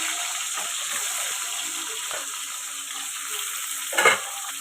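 Potatoes frying in hot oil in a pan give a steady, fairly loud sizzling hiss throughout, with a brief louder crackle near the end.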